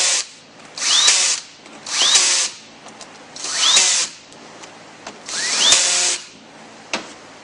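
Power drill driving bolts down on a W4A33 automatic transmission during a DSM Superior / TransLab shift kit install, four loud whirring bursts of about a second each with short pauses between, close and clear with no talk.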